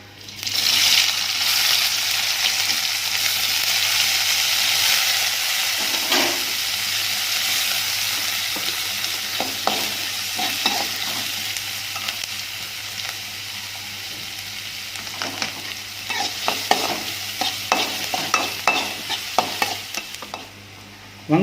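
Onions and vadagam fry in a pan for a homemade fish curry, with a loud steady sizzle and intermittent scraping and clinking of a spoon stirring. The stirring gets busier toward the end, and no one speaks.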